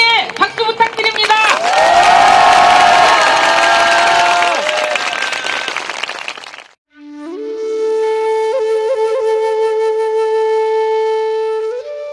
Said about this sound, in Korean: 이용수 할머니께 박수 부탁드립니다